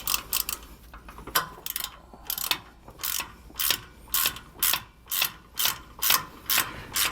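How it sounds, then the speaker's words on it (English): A hand ratchet clicks in quick bursts and then settles into a steady, regular rhythm of loud, close strokes while tightening a bolt on a rear anti-sway bar mounted on a 2019 Coachmen Pursuit motorhome. "you can put your ratchet on there"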